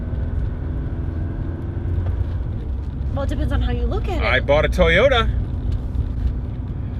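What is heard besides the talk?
Porsche 944 engine running during a drive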